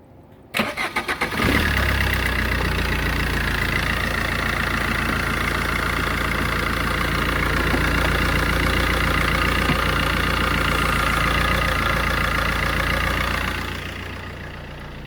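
A car engine cranks briefly, catches and settles into a loud, steady idle that runs for several seconds before dropping slightly at the end.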